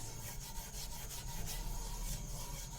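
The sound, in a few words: rubbing oil onto tawa with coconut fiber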